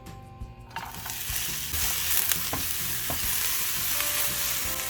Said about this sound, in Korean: 마늘, 대파, 양파를 넣고 살짝 볶아줄 거예요